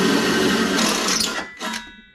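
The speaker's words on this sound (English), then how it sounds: "Right, so we'll drill this last hole." A power drill whirs steadily at close range, then briefly cuts out and spins up again in a short second burst.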